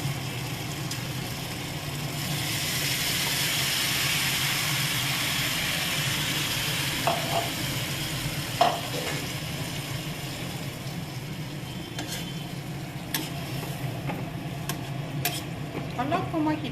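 Food is stirred in a pan after a splash of water is added during a live Assamese recipe show, giving a continuous soft sizzle with occasional light scraping and clinks of a utensil against the pan.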